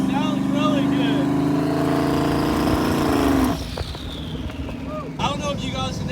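A twin-turbo car runs loud and close with a heavy exhaust, a steady droning engine note rising in pitch before cutting back sharply, then settling and surging again, with a voice talking over it.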